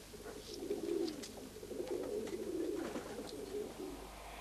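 A pigeon of the kind used as a First World War carrier coos in a soft, steady murmur for several seconds, with faint background noise and no speech.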